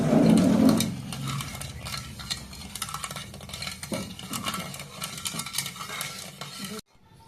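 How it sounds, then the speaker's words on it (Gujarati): Batter with sugar is stirred in a vessel until the sugar dissolves, a continuous scraping and clinking of spoon against the pot that is louder at first, then steady, stopping abruptly at the end. "આખી બધી ખાંડ ઓગળી જાય ત્યાં સુધી આપણે ખીરાને હલાવતું રહેવાનું."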